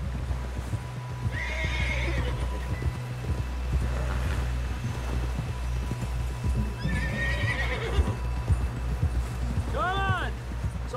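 Horse hooves clip-clop steadily and a horse neighs clearly near the end in Red Dead Redemption 2, over a constant low rumble with voices talking at intervals.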